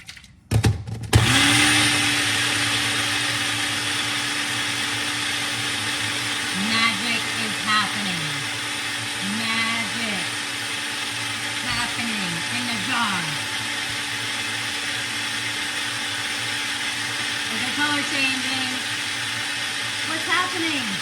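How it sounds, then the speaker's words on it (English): A small blender starts up with a click and whirs at a steady high pitch for a long stretch, chopping Caesar dressing ingredients, with the motor dipping and wavering as it chops. "Okay, let's blitz this. Use whatever blender you have."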